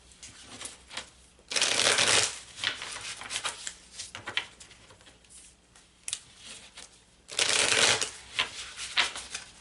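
Tarot cards are shuffled by hand. Two loud riffling bursts stand out, with softer card rustling and handling noises between them, close up.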